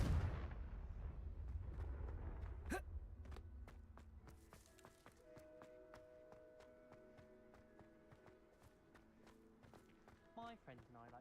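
A Confringo blasting spell goes off in Hogwarts Legacy gameplay: a heavy low rumbling burst in the first seconds, then sharp cracks and scattered impacts fading under ringing game tones.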